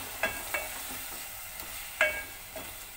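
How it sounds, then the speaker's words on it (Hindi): Chicken frying in oil with kala masala powder, onions and spices, a low steady sizzle broken by a few scraping stirs of a spoon, close and quiet, no voices. "अब हम डाल देंगे ये काला मसाला पाउडर, डालकर अच्छी तरह से भूनेंगे"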